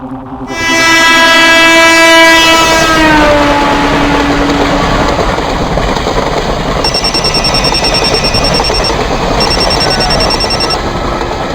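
A train travels along the rails. Its horn blares loudly at the start and then fades, leaving a steady, heavy rumble of wheels on track with a thin high whine later.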